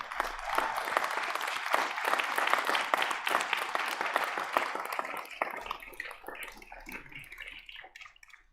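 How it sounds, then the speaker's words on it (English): A crowd at a college commencement applauds loudly and continuously, and the clapping gradually thins and fades toward the end. "please join me in a round of applause for your family"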